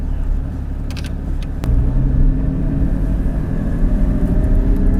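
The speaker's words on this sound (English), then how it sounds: "First thoughts, cold start, just stock with the exhaust open" A Porsche Cayman GT4 on its stock exhaust with the valves open, idling through a cold start: a close, deep, steady engine rumble that steps up slightly in loudness after a moment and holds.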